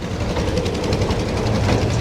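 A train arrives with a steady, heavy rumble that fills the scene without a break.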